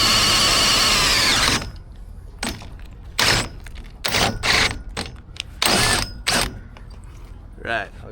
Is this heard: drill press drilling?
yes